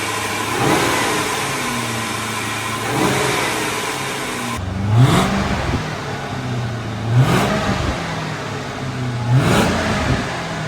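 A V8 car engine idles, then revs up sharply several times in even bursts, each rising roar dropping back to a low rumble.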